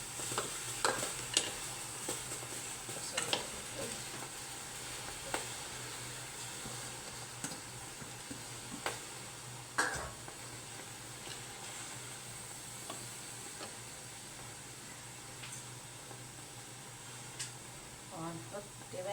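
Onions stirring and frying in a pan while crab is cooked for a seafood rice dish, a steady soft sizzle with scattered scraping stir clicks, fairly quiet and close, with faint talk at times.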